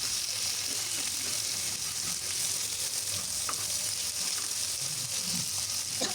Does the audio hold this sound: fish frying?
yes